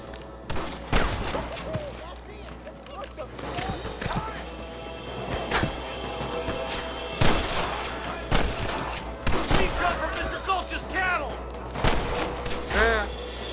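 Gunfire in the Red Dead Redemption video game, a series of sharp close shots scattered irregularly across the span with rumbling impacts between them, while a voice talks over it.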